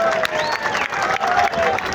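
A crowd at an outdoor political rally in Islamabad applauds and cheers loudly, a dense wash of clapping with voices shouting over it and a faint tonal sound running through.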